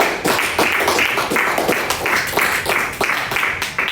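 A church congregation applauding, a dense, continuous round of clapping that swells in rhythmic waves for several seconds, loud and close.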